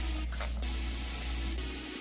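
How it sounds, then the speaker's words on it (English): Baker's Joy baking spray sprayed into cake pans while baking pumpkin pastries, a close, hissing burst lasting about a third of a second, then a quieter background hum. "Be sure to spray and flour your pans really, really good."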